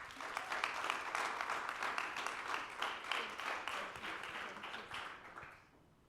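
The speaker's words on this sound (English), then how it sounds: "one last round of applause for them" Audience applause at a community pitch event, steady dense clapping at moderate distance that tapers off and stops in the final second.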